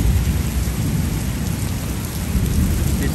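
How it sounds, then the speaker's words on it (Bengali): Heavy rain pours down with large drops, a dense steady roar of rainfall on surfaces mixed with deep low thunder rumbling throughout, loud and close with no voices. "কত বড় বড় বৃষ্টির ফোঁটা দেখছেন"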